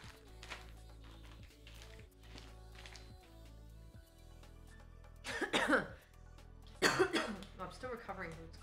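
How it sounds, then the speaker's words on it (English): Two bursts of coughing from a person recovering from a cold, close and loud, during home muffin baking, with quieter kitchen taps and background sounds in between. "Sorry, I just coughed up all over you."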